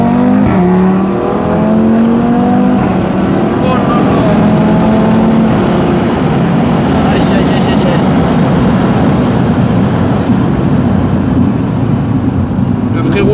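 An Audi RS3 engine revs hard and accelerates, loud and close with rising gear sweeps early on, then settles into a sustained roaring drone with road noise as the car pulls away.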